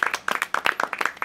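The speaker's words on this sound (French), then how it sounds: "C'était l'interview de Jérôme qu'on peut applaudir bien fort." Close, quick clapping from a small audience after an interview with a hypnotist, a brisk rapid patter of individual claps heard clearly with no talk over it.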